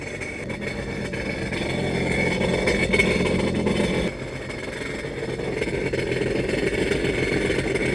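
A nearby Sea-Doo personal watercraft engine runs during a freshwater flush with a steady drone that dips briefly midway, then settles back to an even rumble.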